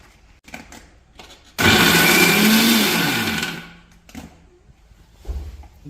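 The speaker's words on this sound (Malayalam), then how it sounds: "നമ്മളെ വീട്ടിൽ മിക്സി ഉള്ളതുകൊണ്ട് നമ്മൾ തന്നെ ഉണ്ടാക്കാനാണ്" A home mixer grinder whirs loudly in one burst of about two seconds, grinding bread into breadcrumbs, then spins down, with quiet room sounds before and after.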